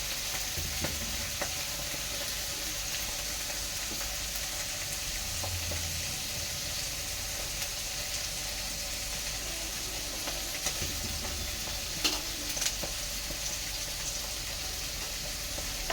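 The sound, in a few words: panch phoron and onion frying in oil for dal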